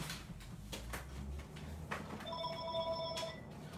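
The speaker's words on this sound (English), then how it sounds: "My telephone, I thought I unplugged that." Landline telephone ringing at home: a short electronic ring burst with bright repeating tones, moderately faint over low room noise and a few knocks, no talk.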